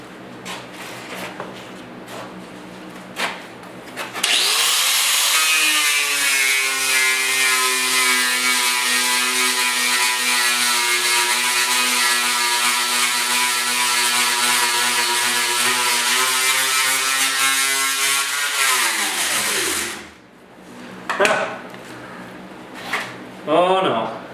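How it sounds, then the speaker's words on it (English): An angle grinder works the rusted lower front panel of a 1939 Chevy two-door, whining loudly and steadily for about fifteen seconds before spinning down, with brief clatter and handling noises before and after. "So what we're going to do is we're going to grind that."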